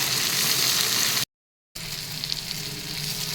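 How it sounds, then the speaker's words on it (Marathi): Onion frying in a pan while a mutton rassa masala is prepared, giving a steady, loud hiss of sizzling oil that cuts out briefly mid-way before resuming at the same level. "इथे माझा कांदा छान भाजलेला आहे।"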